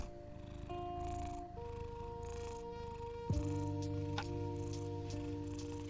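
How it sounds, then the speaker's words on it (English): A cat purrs softly and steadily throughout, a low continuous rumble with faint tonal sounds in the background. "Can you hear her purr?"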